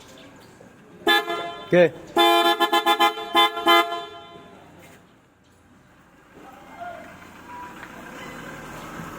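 A Piaa Super Bass car horn fitted with a Stingray relay harness on an all-new Nissan Terra, blown in one long honk, a second honk, then a rapid series of short loud toots, followed by quieter background noise and a brief spoken word.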